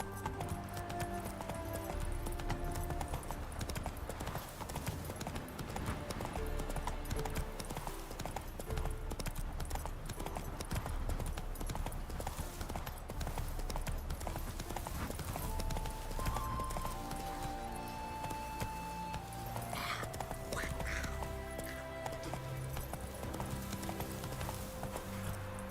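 Hooves of Roach, Geralt's horse in The Witcher 3, clip-clopping in a steady trotting rhythm throughout, set against continuous game music and ambience, fairly faint in the mix.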